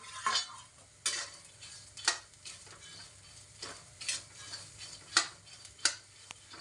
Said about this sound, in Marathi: मटकी भाजत अस सावकाश भाजायची